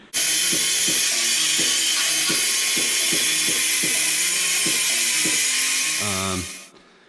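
An angle grinder with a grinding wheel smooths welds on a C10 truck frame shortbed conversion, a loud continuous hiss and whine close up with rhythmic catching ticks, winding down at the end.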